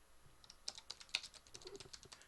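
Rapid computer keyboard typing, a close, steady patter of key presses with small gaps, moderately quiet and with no voices.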